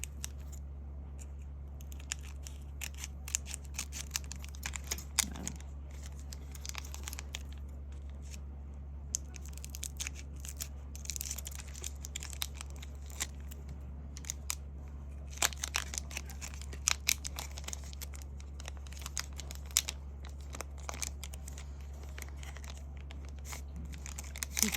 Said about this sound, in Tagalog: so guntingin na lang natin